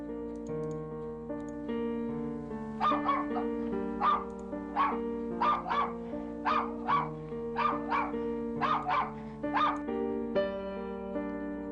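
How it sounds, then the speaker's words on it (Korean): A dog barks repeatedly in the distance for a radio horror drama, a dozen or so evenly spaced barks over a sustained musical drone underneath. "개 짖는 소리가 들렸다."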